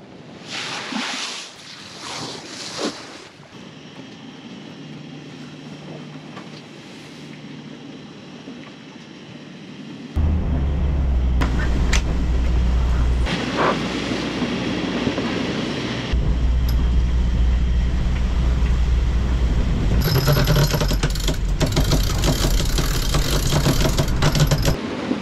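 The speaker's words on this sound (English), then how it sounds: "We're just motoring out the pass here to get offshore." A sailboat's engine drones steadily as the boat motors out through a pass in rough weather, heading offshore from the Marquesas toward the Tuamotus. A low, constant rumble rises sharply partway through, with wind and water noise throughout.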